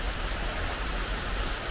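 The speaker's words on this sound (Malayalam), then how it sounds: "വിത്ത് കുഞ്ഞു മഴ." Light rain falls steadily at home, a soft, even patter of drops holding at the same level throughout with no voices.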